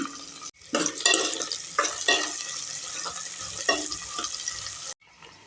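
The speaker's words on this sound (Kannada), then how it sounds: "ಸಾಸಿವೆ ಜೀರಿಗೆ ಎಲ್ಲ ಚಟಪಟ ಅಂತ ಇದೆ" Mustard and cumin seeds crackle and pop in hot oil, a dense sizzling patter with sharper snaps, stopping abruptly near the end.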